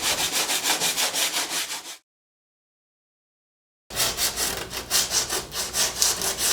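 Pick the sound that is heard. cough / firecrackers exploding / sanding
sanding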